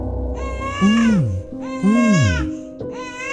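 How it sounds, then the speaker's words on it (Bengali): A baby crying as a sound effect in a horror story, two rising-and-falling wails close and clear, ending in a shorter whimpering cry. "খুব মিহি কিন্তু স্পষ্ট একটা বাচ্চার কান্নার শব্দ"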